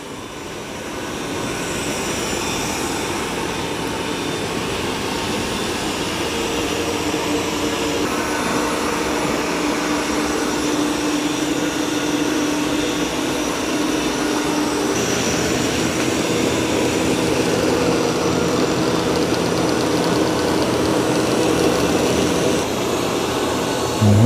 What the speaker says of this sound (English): The Ecovacs is down there and I can hear it pretty good.